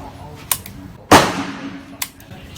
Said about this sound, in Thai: เดี๋ยวจะยิง 5 นัดแล้วก็หาค่าเฉลี่ยนะครับ